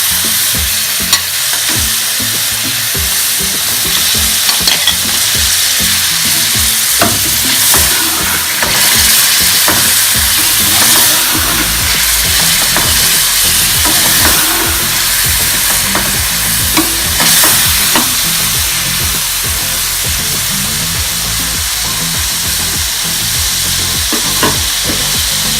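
Boneless chicken sizzles loudly in a handi over high heat, a dense continuous frying hiss with frequent scraping and clattering as it is stirred, no voices.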